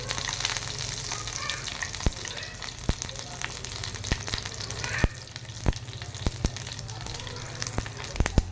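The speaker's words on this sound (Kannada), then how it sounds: "1 ಸ್ಪೂನ್ ಎಣ್ಣೆ ಹಾಕೋತೀನಿ. ಎಣ್ಣೆ ಕಾದಿದೆ. ಸಾಸಿವೆ ಹಾಕೋಣ." Oil sizzles steadily with sharp crackles and pops as mustard seeds fry, a continuous hiss broken by scattered louder snaps, no voices.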